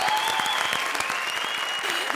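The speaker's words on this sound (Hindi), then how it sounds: "जोरदार तालियां मंत्रा और विशाखा के लिए।" Loud, dense studio audience applause on a comedy show set, continuous clapping with a faint electronic tone and some cheering mixed in.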